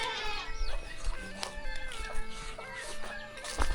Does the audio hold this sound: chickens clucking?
yes